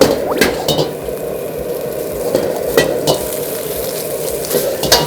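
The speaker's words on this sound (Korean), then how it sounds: "그리고 나서는 열심히 볶아야 됩니다. 센 불로." Yangzhou-style egg fried rice stir-fried hard over high heat in a wok, with a steady loud sizzle and repeated scraping, clinking strokes of the spatula at an irregular rhythm, close up and without talk.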